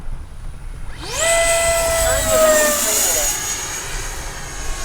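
A Kavan Skyfox L-39 80mm RC model jet with an afterburner sweeps past with a rising then falling turbine whine and roar, loud at the pass and fading after.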